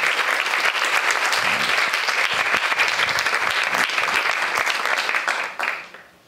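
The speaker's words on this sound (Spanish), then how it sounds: "Un aplauso para Sandra" Sustained audience applause fills a conference hall at a science event for women and girls, steady and dense, then fades out over the last second.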